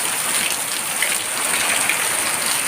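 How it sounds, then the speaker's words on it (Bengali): Heavy rain pours down steadily, a dense even hiss of drops on surfaces, close and continuous without pauses or voices. "আমাদের এখানে প্রচুর বৃষ্টি হচ্ছে।"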